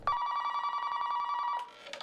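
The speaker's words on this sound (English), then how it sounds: "Susan got the phone call she'd been fearing for years." A telephone bell rings in one long sustained electronic trill lasting about a second and a half, loud and close, then cuts off abruptly. No one speaks.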